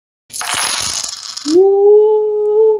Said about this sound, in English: that was the sound of a Cash App donation